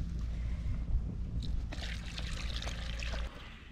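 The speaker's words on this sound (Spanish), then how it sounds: "Voy a echar ya el agua." Water poured into a cooking pot over an outdoor fire in a garden plot, a steady rushing pour with some splashing and gurgling that carries on for several seconds before easing off near the end.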